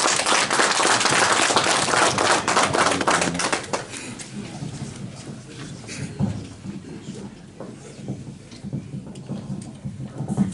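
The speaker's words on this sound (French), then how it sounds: "Je donne donc la parole à M. Lubelo, à qui je vous demande de l'applaudir." An audience at a Congolese diaspora meeting in Paris claps loudly and densely for a speaker, then the applause thins into scattered claps and room murmur.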